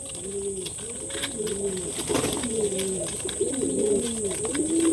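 Several pigeons coo in overlapping, rolling phrases while eating paddy grain, fairly close, with a steady soft background hum throughout.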